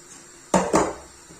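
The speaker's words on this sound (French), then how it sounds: "on prend une serviette et vous mélangez avec une spatule" Two quick clinks of a spatula against a bowl while hot couscous semolina is mixed, one right after the other, then quiet.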